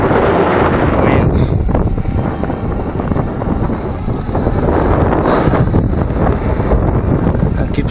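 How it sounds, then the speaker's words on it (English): Loud, gusty wind buffets a Parrot Bebop 2 drone's microphone, a continuous rough low rumble with fluttering bursts throughout. "Wind."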